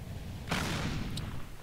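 A tank's main cannon fires once in World of Tanks, a sudden loud boom with a short rumbling tail over steady engine hum, no voices.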